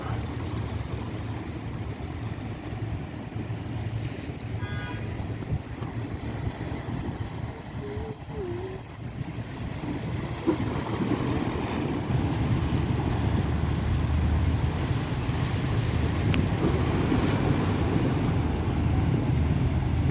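The car ferry KMP Aceh Hebat under way at sea, a steady broad rush of wind and water against the hull that swells louder about halfway through, with a couple of faint brief calls in the distance.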